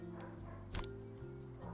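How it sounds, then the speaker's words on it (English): Dogs bark downstairs during a House Flipper 2 game session, a few short yips sounding muffled and distant over a low steady hum and a brief clatter. "I can hear dogs barking downstairs."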